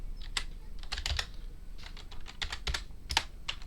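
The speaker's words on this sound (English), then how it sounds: "I'm on an older keyboard today because my other one, the battery's packed in, so I'm going to blame my keyboard for any typos today." Typing on an older computer keyboard, a steady run of close, crisp key clicks in irregular bursts with short pauses, no talking.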